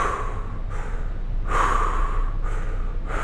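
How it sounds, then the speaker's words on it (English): Big, deep inhale-and-exhale breaths from a breathing exercise, several forceful rushes of air in an even rhythm, close and fairly loud with no talking. "just big deep breaths."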